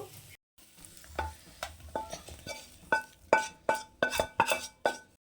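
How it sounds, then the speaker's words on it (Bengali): Okra fries in a wok as a spatula strikes and scrapes it in quickening rhythmic strokes over a soft sizzle, close and clear, with the clinks growing louder and more frequent. "ভেন্ডিগুলো অর্ধেকটা ভাজা অর্ধেকে বেশি ভাজা হয়ে গেছে"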